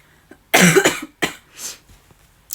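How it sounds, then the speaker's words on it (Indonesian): Several harsh coughs from someone who is unwell come close and loud in quick succession, one strong burst followed by a few shorter ones. "maaf jika saya batuk karena saya sedang kurang sehat"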